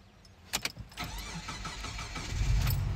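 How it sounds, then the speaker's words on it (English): A car engine is started again after it has already run for a few minutes: a couple of sharp cranking clicks, a short pause, then the motor catches into a steady, fairly close rumble that grows heavier at the end. "So I let my car run a few minutes, and now I'm going to see if it starts up"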